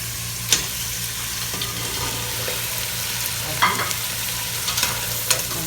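Crab frying in a pan with a tomato ketchup sauce, sizzling steadily while being stirred, with a few close scraping clicks from the utensil against the pan and no talking.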